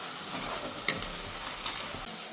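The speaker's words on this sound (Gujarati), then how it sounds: "હવે એમાં આપણે આ ટમેટાનું નાખી દઈશું ગ્રેવી કરેલું" Tomato gravy poured into onions already frying in a pan, a steady moderate sizzle with a brief sharper splash near the start, no voices.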